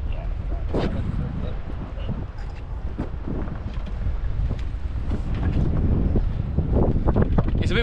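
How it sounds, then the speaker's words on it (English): Strong gusting wind buffets a sailboat riding at anchor in a crowded anchorage, a loud, steady roar with microphone buffeting, and voices speaking over it. "It's a bit windy"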